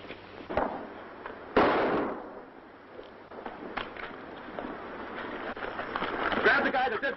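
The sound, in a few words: gunshots in a western shootout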